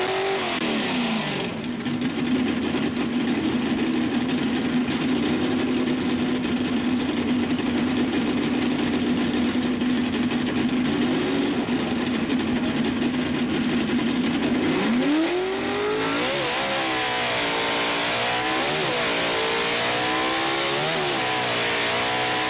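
A 1960s Ford 427 Cammer drag racing car with Goodyear tires roars loudly, holding a steady high engine drone before the revs swing up and down in wavering surges.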